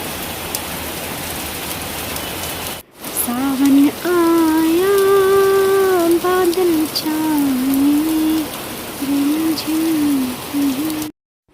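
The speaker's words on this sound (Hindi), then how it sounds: "ये देखिए मेरी प्यारी फैमिली, कितनी तेज़ बारिश होने लगी है।" Heavy rain pours down in a dense, steady roar; a brief gap, then a wavering tonal hum, like a distant voice, drifts over the downpour.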